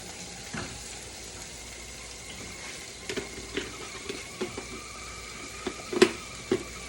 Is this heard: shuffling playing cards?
no